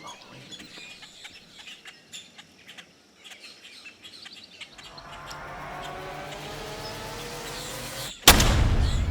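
Songbirds chirp sparsely in a Florida outdoor setting during an Osceola turkey hunt, then a rushing ambient noise slowly builds before a single loud, sharp gunshot cracks near the end and leaves a booming tail.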